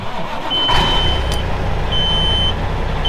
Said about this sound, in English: truck starts right up even when it's cold